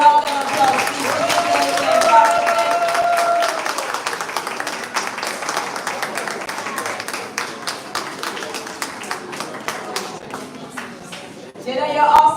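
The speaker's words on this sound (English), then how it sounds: "Let's give Jada a round of applause" Applause from the audience at a primary school spelling competition, a steady patter of many hands lasting several seconds and then tapering off, with a voice speaking over it.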